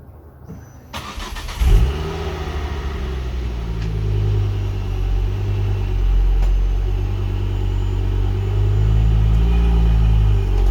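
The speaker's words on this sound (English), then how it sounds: "let's reverse the car back first" A Ford Focus ST engine idles then rumbles steadily as the car reverses slowly, a low continuous drone with a faint whine, close by, no voices.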